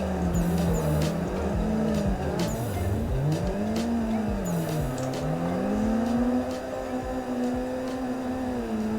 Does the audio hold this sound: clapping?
no